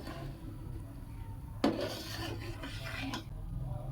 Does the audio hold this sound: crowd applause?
no